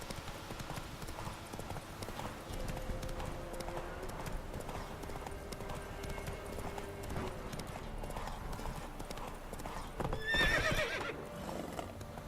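Roach, a horse in The Witcher 3 video game, gallops with a steady rapid clip-clop of hooves throughout, then lets out a sharp whinny near the end over a low ambient game background.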